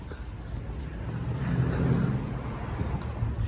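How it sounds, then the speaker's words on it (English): Loud car exhaust on Rodeo Drive: a steady low engine rumble and roar that swells slightly midway, close and continuous with street noise. "Every car here loud."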